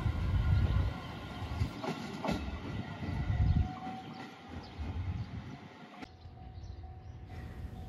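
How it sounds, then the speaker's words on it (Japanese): A JR Shikoku 7000 series one-man local bound for Matsuyama rolls into a rural Ehime station on the Yosan Line, a low rhythmic rumble of wheels on rail joints with a faint tonal whine, close and steady before quieting. "松山行きの7000系が来ました。"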